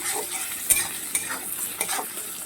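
Salt, spices and chopped green chilli are stir-fried in a pan for pumpkin kofta curry, with a continuous close sizzle broken by repeated scraping strokes of a spatula.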